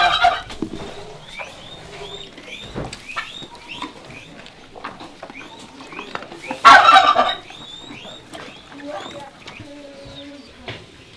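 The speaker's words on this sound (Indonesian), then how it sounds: "Oh, ada kalkun juga Mas." Turkeys gobble repeatedly at close range on a farm, overlapping bursts with one loud outburst midway, while someone talks intermittently underneath.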